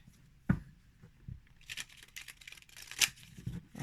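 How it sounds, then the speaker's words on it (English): Small tarot cards from a Teeny Tiny Tarot or Mini Divi deck are shuffled by hand close up: a soft thump, then a few dry, crinkly riffling bursts that come and go. "Now let me see what happens if I'm to shuffle, because they're shorter."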